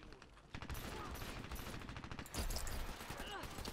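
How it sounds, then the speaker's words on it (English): Rapid automatic gunfire in the online shooter Dirty Bomb, dense crackling bursts of shots layered over each other in a busy firefight, with a voice briefly mixed in. "my own team member shot me in the arse"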